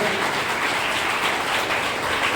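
Students at a school event with an ISRO director give sustained, dense applause: loud, continuous clapping from a large crowd with no talk above it.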